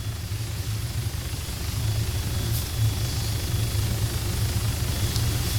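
Helicopter in the ARMA 3 video game, a steady low rotor drone with a faint engine whine, holding loud and even throughout as it slows toward a landing.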